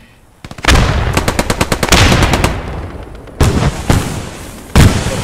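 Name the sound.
gunfire in video game Post Scriptum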